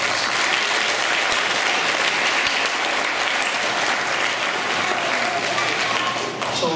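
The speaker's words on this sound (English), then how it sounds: "let's give them a round of applause." Sustained audience applause fills an elementary school Christmas program, a dense, steady wash of many hands clapping at even loudness throughout, with faint crowd murmur beneath.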